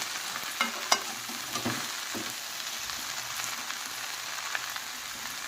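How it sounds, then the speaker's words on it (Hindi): Food fries in oil in a non-stick-free kadhai, a soft continuous sizzle with scattered light scrapes and taps of stirring near the start, quiet and steady with no voices. "तो इसको हम लोग तेल में थोड़ी देर, मतलब 4 से 5 मिनट अच्छे से फ्राई होने देंगे"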